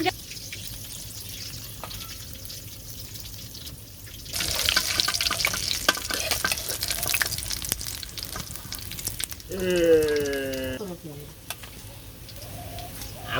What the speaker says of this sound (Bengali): এই যে কালিয়ার মাছ ও বিড় বিড় বিড় বিড় করে গো মাছের গান